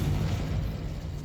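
A Confringo spell goes off in Hogwarts Legacy, a loud, sustained rumbling blast that fills the short moment with low booming energy and no voices.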